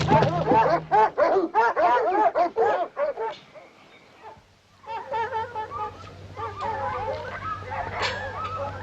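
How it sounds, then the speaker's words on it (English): Several hound dogs bay and howl in rapid, loud, overlapping bursts, then pause briefly before resuming with yelping, whining howls as a low hum runs underneath. "Hey, Muley, them dogs starting to howl."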